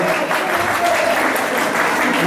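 Loud, dense applause from an audience at a school reunion and teacher-honouring event as a teacher is welcomed onto the stage, sustained and close throughout, with faint voices mixed under the clapping.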